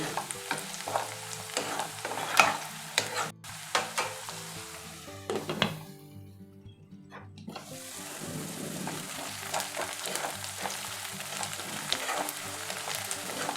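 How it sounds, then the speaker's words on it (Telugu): Sliced onions sizzle and soften in a pan for a chicken and potato roast, with repeated spoon scrapes and stirs at the start and end and a quieter covered stretch in the middle, close and steady with no talking. "వీటిని మనం అప్పుడప్పుడు తిప్పుకుంటూ బాగా మగ్గించుకోవాలండి"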